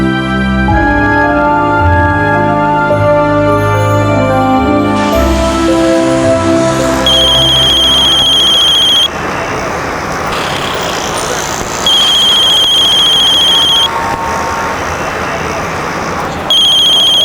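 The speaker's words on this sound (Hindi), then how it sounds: "विशाल, मैं तुम्हें कितनी देर से कॉल कर रही हूँ, तुम मेरा फोन क्यों नहीं उठा रहे हो?" A telephone rings repeatedly in bright, steady bursts over loud background music and road noise.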